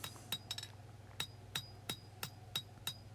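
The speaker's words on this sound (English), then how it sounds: "I'm going to draw the point out on the power hammer just to start with" A power hammer draws out the point of a small forged seax, giving a series of sharp, evenly spaced metallic blows over a constant low machine hum.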